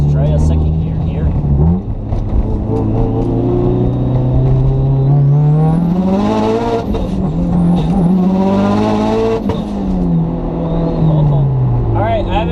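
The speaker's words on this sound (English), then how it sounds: "Let's try a second gear here." A tuned Mitsubishi Evo making around 430 wheel horsepower pulls hard in second gear, its engine note climbing steeply, dipping briefly, then rising again. The engine is loud and close, heard from inside the car.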